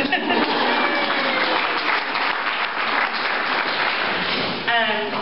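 Applause fills a small gathering for a guest who travelled from California, dense steady clapping held at an even level for about five seconds, with a voice surfacing near the end as it fades.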